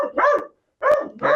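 A dog on a walk barks loudly and close by in short bursts, two separated by a brief silence and a third starting at the end.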